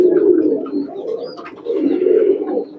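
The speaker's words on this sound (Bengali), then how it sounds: "এই যে কবুতরটা গোল্ডেন কবুতর" A golden pigeon coos up close, two long soft throaty rolling phrases with a short dip between them, loud and clear with no talk.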